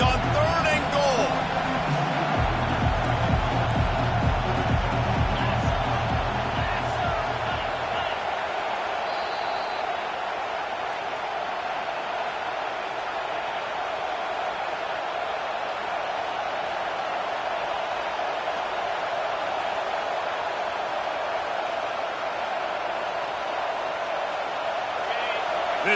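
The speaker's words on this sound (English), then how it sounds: "This crowd rising up, sensing that its defense needs some help" Big, steady roar of a stadium crowd at a Louisville Cardinals college football game against Tennessee, swelling loud on third and goal, with low rhythmic stomping or band beats early on and a commentator talking over it.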